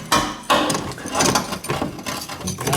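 A metal fuel tank clamp is worked back and forth with pliers under a car, producing steady, loud, close rattling and ratcheting metallic clatter with a few sharper knocks.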